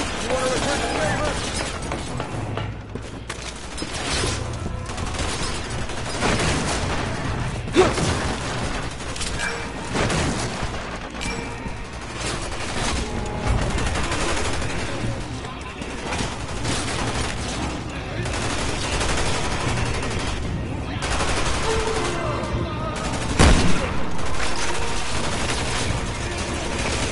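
Sustained gunfire in Resident Evil 6, aimed at the player, crackles through a busy game mix with scattered sharp bursts and booms, while voices talk over it.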